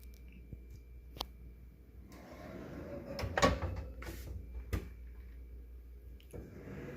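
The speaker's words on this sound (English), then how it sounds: "I have a pull-out drawer right here" A pull-out kitchen island drawer slides open and shut, with a soft rolling rumble and a few muffled knocks and thuds close by.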